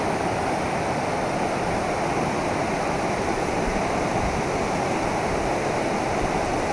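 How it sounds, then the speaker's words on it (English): Rapids on a Yellowstone river rush in a steady, loud broadband roar of churning water, constant and unbroken throughout with no voices. "these rapids are pretty cool."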